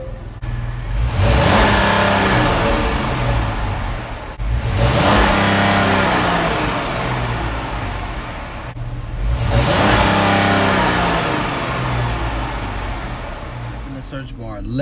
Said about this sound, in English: here go the cold start and a few revs of the exhaust